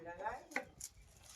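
A knife chopping food on a board, a couple of quick close taps in a short burst, quiet and on its own with no talking.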